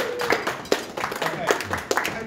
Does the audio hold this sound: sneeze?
no